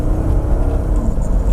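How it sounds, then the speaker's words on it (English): A 1999 Mercedes-Benz E55 AMG sedan launches under full throttle with traction control on, its engine roaring loudly and steadily up close with a rough, churning rumble as the wheels spin. "we're gonna launch this E55 AMG with the traction control on, and I'm just gonna floor it down"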